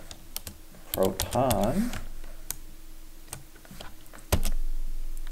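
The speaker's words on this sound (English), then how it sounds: "If I can type correctly," A command being typed on a computer keyboard, with quick uneven key clicks and a loud final keystroke, close up, while a person speaks briefly during the typing.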